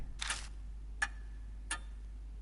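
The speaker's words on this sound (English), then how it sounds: "Silence descends, broken only by ticking." Clock ticking in the video game Spirit Hunter, a few sharp isolated ticks spaced irregularly apart over near silence, the first one a longer, broader rustle.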